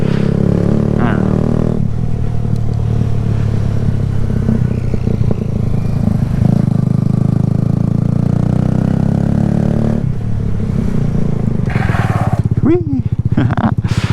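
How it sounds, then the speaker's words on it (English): A Kawasaki Z125 stunt-build motorcycle rides along with a steady, loud engine drone and shifting revs, wind noise on the microphone, and a rider's brief exclamation near the end. "Just to prove that I can ride a motorcycle"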